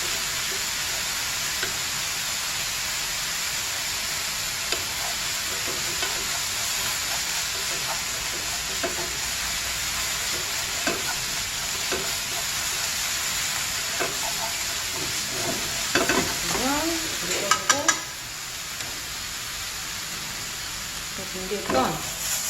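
Ingredients for tangpyeongchae, the Korean mung bean jelly salad, stir-fried in a pan with a splash of water, giving a steady close sizzle and hiss with scattered clinks and scrapes of the utensil, louder clattering near the end.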